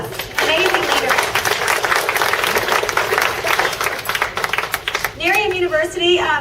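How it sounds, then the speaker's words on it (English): Audience at a regional company training event applauds, a dense burst of clapping through the middle of the clip, with voices speaking at the start and end. "Give her a round of applause."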